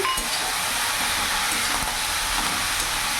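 Snake gourd and egg frying in a pan while being stirred, a steady close broadband sizzle with faint scraping throughout and no talking.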